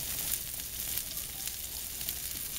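Broccoli florets and stems frying in a pan for beef and broccoli, a steady soft sizzle with faint crackling throughout, close and continuous with no talking.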